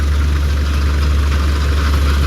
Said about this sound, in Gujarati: તમે જોઈ શકો છો આ રીતના કંઈક હાલે છે આપણું શ્રી બાલાજી ઠેસર ધાણામાં મિત્રો.